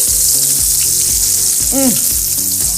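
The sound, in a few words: spiced ribs searing in a pan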